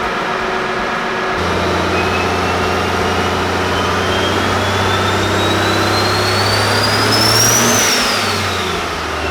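A car engine revs hard on a dynamometer during a nitrous dyno day, climbing to about 3,500 RPM. It gives a loud, continuous rising roar with no talk, then drops off sharply.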